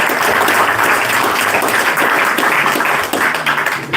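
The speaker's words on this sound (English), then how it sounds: "if everyone can just give Todd a huge round of applause" A bookstore audience applauds author Todd Evans after his reading, loud continuous clapping that holds steady and tapers slightly at the end.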